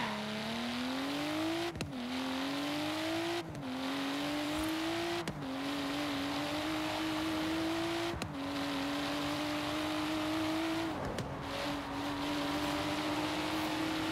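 A Toyota Supra's engine in Forza Horizon, pushed toward 300 km/h: a loud, steady drone that climbs in pitch, breaks off briefly at each of several gear shifts, then rises again, with no one speaking.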